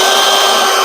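A power drill whines loudly and steadily at close range, boring into a plastic push tab on a Kia car bumper, a short high-pitched buzzing burst with no voices.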